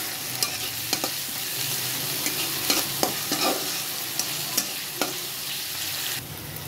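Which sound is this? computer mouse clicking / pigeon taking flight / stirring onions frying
stirring onions frying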